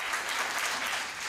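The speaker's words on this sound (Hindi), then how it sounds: "साहब ये एक बार खुलकर तालियां बजाइए" Short burst of steady, dense audience clapping at a live comedy storytelling show, fairly soft and even throughout, with no voices over it.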